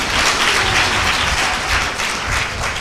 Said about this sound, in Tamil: ஐயாவுக்கு ஒரு கைத்தட்டு கொடுத்துரு.